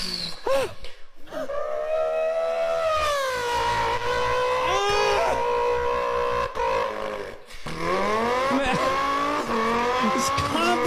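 Race car engine revving and tire squeal imitated by a voice in beatbox style, with long sweeping rising and falling whines, screeching glides and short breaks, loud and close.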